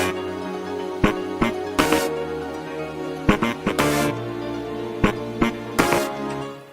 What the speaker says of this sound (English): Of course, let us not forget the saxophone.